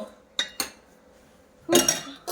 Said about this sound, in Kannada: ಹಾಗಾಗಿ ಬಂದು ಇವಾಗ ಪಾತ್ರೆ ಎಲ್ಲ ತೊಳೆದು